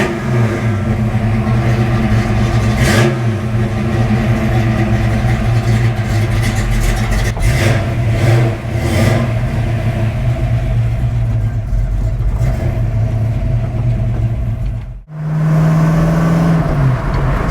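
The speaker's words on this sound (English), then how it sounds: "Let's put some heat in the engine" A car engine drones loudly and close, rising and falling as it revs through gears while driving, then briefly cuts out near the end.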